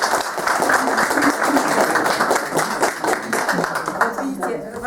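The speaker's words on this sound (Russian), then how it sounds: "Вот видите, ваши аплодисменты" An audience applauds at the opening of an Udmurt culture corner in a village library, with dense, rapid clapping mixed with voices talking throughout.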